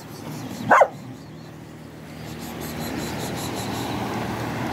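A single dog gives a sharp, loud bark near the start, then steady outdoor ambience with wind and waves or surf continues without further barking.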